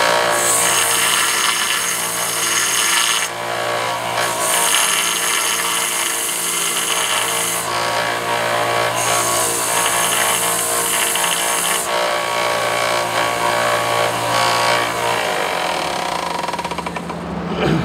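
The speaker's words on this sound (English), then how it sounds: "One of them's on a belt sander." A small, inexpensive belt sander grinds steel blacksmith cold chisels, a loud continuous motor whine with rasping abrasive bursts as metal is pressed to the belt repeatedly, alone without talk.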